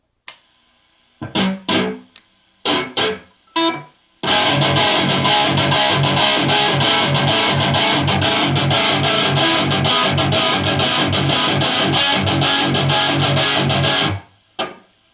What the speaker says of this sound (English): now we are going to go straight to the heavy distortion